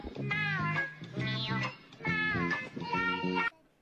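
Cats fighting let out several long, wavering meows and yowls in close succession, close by and moderately loud, ending abruptly.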